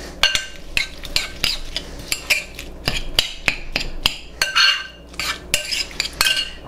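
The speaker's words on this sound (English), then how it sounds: "So, give that a quick stir" A utensil stirs garlic into chunky guacamole in a bowl, giving a series of sharp clinks and taps against the side in an uneven rhythm, close and clear with no talking.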